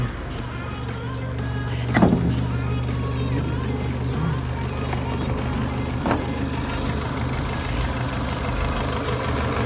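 A Renault Scenic 2 car with a 2.0 gas/petrol engine and automatic transmission idles quietly and evenly nearby, with a low steady hum and a couple of faint knocks.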